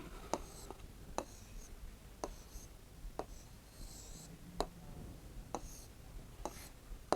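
A pen writing the Urdu word aangan by hand on paper, soft scratchy strokes broken by sharp taps as the nib lifts and lands, close and quiet with no talking.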